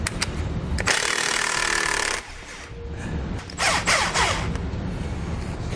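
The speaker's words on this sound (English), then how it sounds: "Take a 3/4 inch socket and we're going to loosen the nuts." Power tool driving a 3/4 inch socket loosens the rear axle nuts on a 2014 Toyota Tacoma, giving loud, sustained whirring and rattling bursts with short pauses between them.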